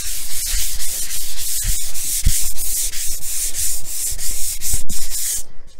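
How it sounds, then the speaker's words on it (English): Sandpaper scrubbed by hand along the edges of a painted cabinet top, giving close, continuous scratchy rubbing strokes with a few sharper scrapes and no talking. "I'm just pressing with my sandpaper over these edges"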